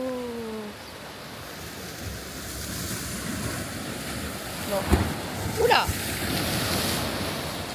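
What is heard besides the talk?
ocean waves at a beach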